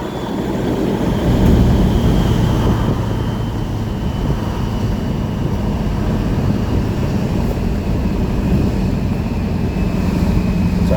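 A built 7.3 Powerstroke turbo diesel truck with a 4R100 transmission and 4x4 pulls at quarter throttle on about 20 pounds of boost, giving a steady, loud low rumble with a faint whine that holds evenly throughout.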